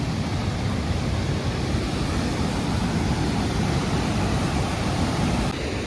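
A loud river pours over waterfalls at Franconia Notch State Park, New Hampshire, with wind adding to a constant, dense roar that fills the whole stretch without a break.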